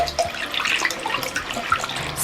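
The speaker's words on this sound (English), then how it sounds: "I'm just going to wash it just with water and a cloth." Running water splashes steadily as a warm cast iron pan is washed with a cloth, a close, continuous rush of tap water with small sloshes and no talking.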